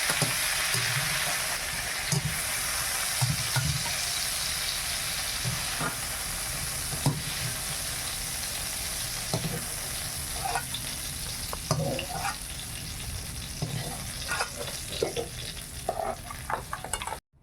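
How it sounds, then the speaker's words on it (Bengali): Whole spices, small cardamom, cloves, cinnamon, dried chili, panch phoron and bay leaf, sizzle steadily in hot oil for a vegetarian khichuri, with scattered clinks and scrapes of stirring over a constant loud crackle. "তেল গরম হয়ে গেছে, এবার ফোড়ন হিসেবে ছোট এলাচ, লং, দারুচিনি, লঙ্কা আর একটু 5 ফোড়ন দিয়েছি, তেজপাতা।"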